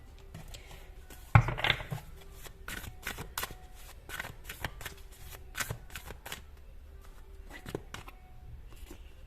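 Tarot cards shuffled and drawn by hand: a sharp riffle burst, then a string of quick, crisp card flicks and slides at close range, with faint background hiss and no talking.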